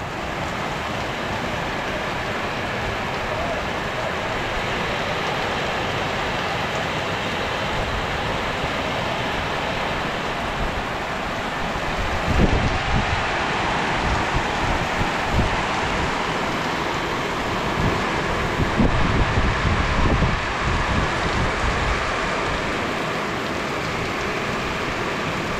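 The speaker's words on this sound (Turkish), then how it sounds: "Yağmur tekrardan başladı" Rain falls steadily after the afternoon call to prayer, making a continuous wash of hiss with occasional louder spatters and drips. No one speaks over it.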